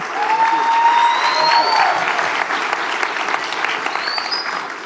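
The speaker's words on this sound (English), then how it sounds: "let's give him a round of applause for that great thing he just did" A town hall meeting audience breaks into loud, sustained applause, a dense steady wash of clapping with a few high whistles cutting through near the start and end.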